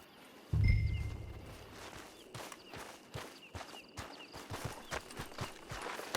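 Horse hooves clop at a steady walking pace in Red Dead Online, close and fairly soft, following a low thud as the rhythmic steps carry on over quiet ambience.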